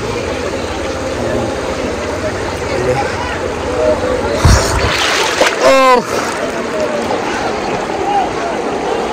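Strong stream current at Utmachhara waterfall in Sylhet, a close rushing wash of water with splashes midway as someone wades through, and people talking over it.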